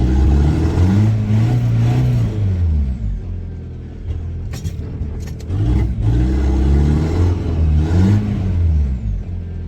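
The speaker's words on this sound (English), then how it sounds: "Spinning tires." A car engine revs hard in two long surges with a brief easing between them as the tires spin while it tries to pull a trailer out. The engine is loud and close, and nobody speaks.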